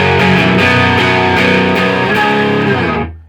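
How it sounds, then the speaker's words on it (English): A distorted electric guitar plays the chorus of a song in loud, thick three-note power chords, ringing steadily with no talking before cutting off and fading out at the end. "you need to kick on some distortion when it comes to the chorus"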